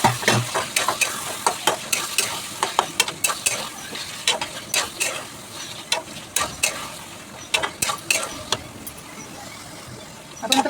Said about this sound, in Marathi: आपण त्या मसाल्यामध्ये चांगलं परतून घेऊया कोळमी बटाटा